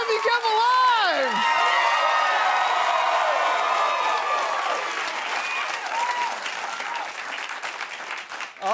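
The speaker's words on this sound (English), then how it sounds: "Thank you for clapping, even though most of you have no idea who I am." A Jimmy Kimmel Live studio audience applauds loudly and steadily, with some cheering and a few voices mixed into the clapping, before it thins out toward the end.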